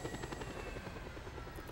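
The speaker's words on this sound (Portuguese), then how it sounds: "O Kakashi vai abastecer aqui o helicóptero." Steady, loud rotor thump and engine drone of a helicopter in a video game, continuous and close with no talking.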